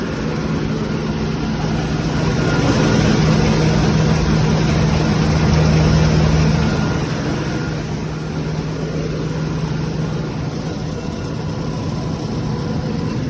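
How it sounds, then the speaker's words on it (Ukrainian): A 1991 John Deere 1158 combine harvester idles in place, its engine giving an even, continuous low rumble at close range, alone without talk. "комбайн, як бачите, не пригає, стоїть на місці, все збалансований"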